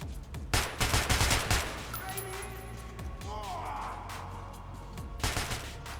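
Gunfire in the video game Metro Last Light: bursts of sharp, rapid shots at the start and again near the end, with quieter mechanical clicks and whirring in between.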